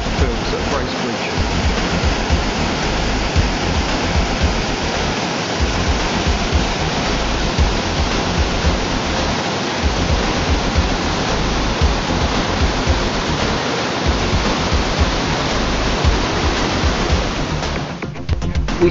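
Waterfall at Bracebridge, Ontario, rushing loudly and steadily as a dense broadband roar of falling water, close and unbroken throughout, fading slightly at the very end.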